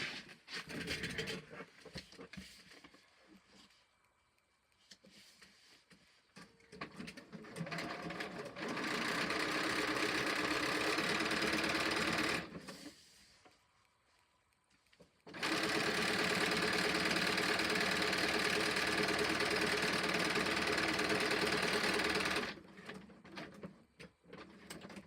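A sewing machine stitches foundation paper pieced scrappy triangle quilt blocks. It runs in two long, steady, loud bursts of several seconds each, with shorter, quieter stitching and handling sounds before, between and after them.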